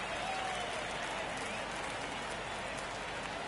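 Video game baseball stadium crowd in MLB The Show 23 during a tight ninth inning, a steady moderate rumble of cheering and clapping, under commentary.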